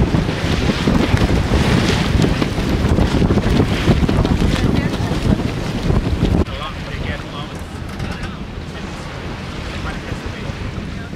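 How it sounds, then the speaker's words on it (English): Steady broadband wash of water and engine noise from a tour boat near Lisbon at sunset, with wind buffeting the microphone throughout; no clear speech. "we're taking a 2-hour boat tour"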